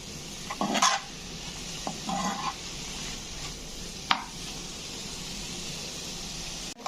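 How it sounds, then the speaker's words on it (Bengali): Beetroot and onions sizzle steadily in a pan, a constant frying hiss close by, broken by a few clinks and scrapes of a spatula stirring through them. "আমার বিটরুটটা কিন্তু অনেকটা ফ্রাই হয়ে গেছে"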